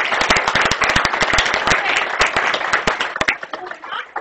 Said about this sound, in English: And shall we give another round of applause?